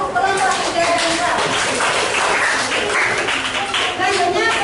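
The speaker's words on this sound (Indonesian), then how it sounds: "Beri tepuk tangan untuk kelompok 3." Classroom applause for a student group during a religious studies lesson, a few seconds of steady, moderately close clapping from a room of students with no break.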